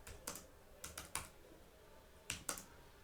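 Typing on a computer keyboard, a few quiet clusters of quick key clicks spread over a few seconds with pauses between, close but faint.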